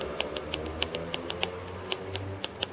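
Quick, irregular taps on the touchscreen keyboard of a WITS A81-E 7-inch Android tablet, light clicking sounds close by over a low background hum.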